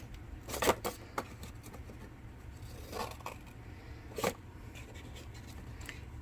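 Scissors snip through paper in a few quiet, separate cuts, each a short crisp rustle, with soft handling noise between them in a calm room.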